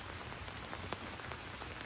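Steady rain falls outdoors around a garage work area where dirt work has stopped, a soft, even hiss with a few faint separate drop taps.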